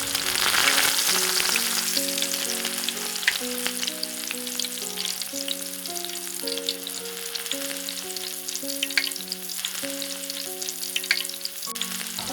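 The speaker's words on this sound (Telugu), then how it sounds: "నూనె వేడైన తర్వాత ఈ కాకరకాయని ఫిఫ్టీ పర్సెంట్ ఫ్రై చేసుకోండి" Stuffed bitter gourd fries in hot oil with a continuous close sizzle and hiss, and occasional crackles and stirring scrapes, under steady background music.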